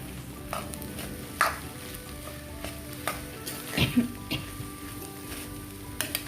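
Masala curry for chapati and masala dosa being stirred and mixed in a pan, with a soft, steady sizzle and a few scraping, knocking spoon strokes against the metal, close and quiet, with no talk.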